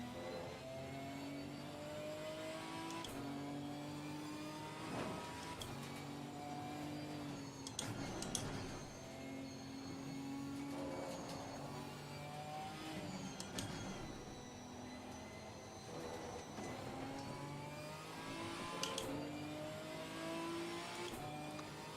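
An Aston Martin GT4 race car in Assetto Corsa Competizione revs hard and climbs through the gears again and again, its steady engine note rising, dropping at each shift and rising again, fairly quiet with no talk.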